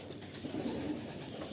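Andhra pigeons cooing softly in a loft, a low murmuring coo repeating steadily over faint background hiss, no talk.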